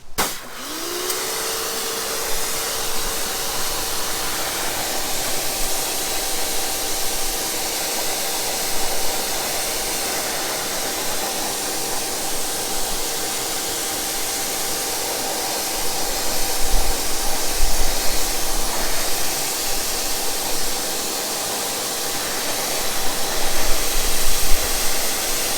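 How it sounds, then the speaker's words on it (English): Water spray rinsing wheel cleaner off a car wheel, a steady broadband hiss that holds close and even throughout, with a slight rise in the later seconds. "Let's go ahead and get this thing rinsed down and see how clean it rinses"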